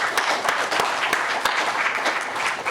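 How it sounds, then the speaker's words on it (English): A conference audience at a housing event applauds its panel, a steady crowd clapping with several crisp individual claps popping through, moderately loud and continuous. "So I want to thank our panel and give them a round of applause."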